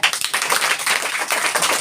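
A few people clap in a classroom during a lesson on squaring numbers, a brief, close burst of uneven, slightly scattered claps lasting under two seconds.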